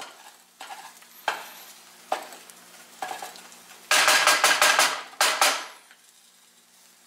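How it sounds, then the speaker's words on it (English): A wooden spoon scrapes the bottom of a pan holding a sizzling sausage and egg omelette, with single scrapes spaced about a second apart, then a burst of quick rapid strokes, all close over a faint frying hiss. "I'm just using the wooden spoon to get some of the juices at the bottom."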